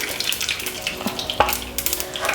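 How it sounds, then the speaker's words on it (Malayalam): Mustard seeds crackling in a pan of hot coconut oil on the stove, with small sharp pops scattered over a steady sizzle, heard close and moderately loud with no voices. "കടുക് പൊട്ടിയിട്ടുണ്ട്."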